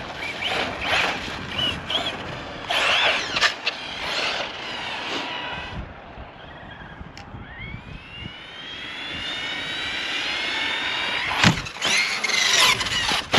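An Arrma Fireteam RC car races at speed with a high, whining electric motor that rises and falls as it passes and accelerates, its pitch sweeping upward toward the end.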